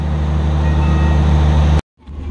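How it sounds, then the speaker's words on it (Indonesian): Taksaka Tambahan executive train pulling out of Kroya station in Indonesia, a loud, close, steady rumble of wheels and carriages that cuts off abruptly near the end, followed by faint background noise. "kereta api Taksaka Tambahan kembali diberangkatkan dari stasiun Kroya dengan tujuan akhir stasiun Gambir"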